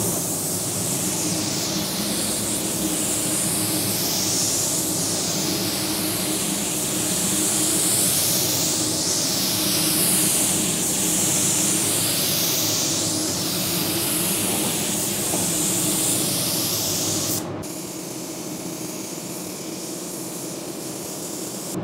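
Sagola 3300 GTO spray gun hissing steadily as it sprays clear coat at around 22 PSI, a close continuous airy rush with sweeping swells of pass after pass, cutting off sharply near the end.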